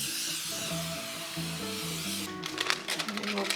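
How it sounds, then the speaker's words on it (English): Cooking spray hisses onto a cake tin in a steady broadband rush, then breaks into several short bursts close to the microphone, with faint low background tones beneath. "give our tin a wee spray. I'm just using a cooking spray"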